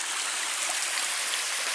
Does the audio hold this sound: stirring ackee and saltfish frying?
no